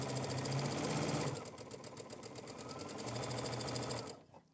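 A sewing machine stitches along the marked lines of a quilt block in two steady runs of fast, even needle chatter, loud and close, with a short slower stretch between them before it stops.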